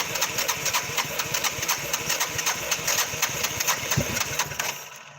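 A four-wheeler ATV engine cranks outdoors with a loud, close, rapid rhythmic chugging that holds steady before trailing off at the end.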